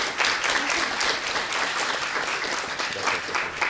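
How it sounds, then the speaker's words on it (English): Audience applause rings out at a primary schools state debating championship awards ceremony, a steady dense clapping that carries on evenly without a break. "We'll start clapping in between."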